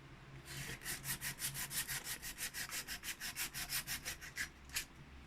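A wooden frame is sanded by hand in about twenty quick, even back-and-forth rubbing strokes, close and clear with no voices.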